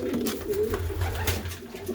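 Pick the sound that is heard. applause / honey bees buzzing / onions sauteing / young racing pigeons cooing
young racing pigeons cooing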